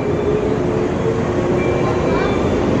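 A JR 213 series train rumbles steadily close by with a continuous low roar and faint squealing tones, pulling into platform 2 at Kurashiki Station, Japan.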